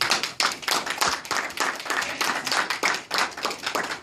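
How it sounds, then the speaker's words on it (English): A group claps rhythmically in quick, fairly even bursts, each clap sharp and close, forming a steady pulsing round of applause across the whole stretch. "let's give them a round of applause real quick"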